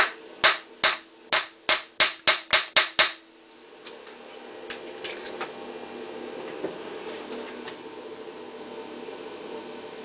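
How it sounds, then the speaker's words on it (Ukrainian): A rapid series of about nine sharp metallic taps from a copper hammer seating a workpiece clamped in a lathe, close and loud, followed by quieter workshop clatter and a low mechanical hum. "підстукуємо мідним молоточком"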